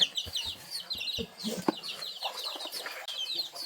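Chicks and hens on a farm in Antique, Philippines: rapid high peeping and short clucks close by, repeating through a few seconds with a few soft knocks and rustles.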